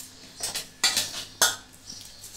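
Metal utensil scraping leftover egg rabri from a pan into a pot, giving a few brisk, close scrapes and clinks spaced about half a second apart over a low background hum.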